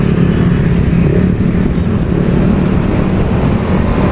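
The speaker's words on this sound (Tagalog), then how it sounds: "Uy, ang dami nakamotor o." Heavy engine traffic with many motorcycles passing on a road beside a park at sunset, a loud continuous rumbling drone throughout with no clear gaps.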